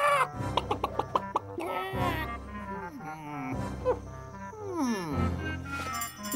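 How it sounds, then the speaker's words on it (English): A cartoon rooster clucks and crows in a run of loud, close, pitch-sliding squawks and short clucks, lasting a few seconds. "Look out, everyone! The rooster's coming!"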